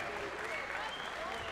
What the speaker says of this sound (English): a round of applause for a hard-fought professional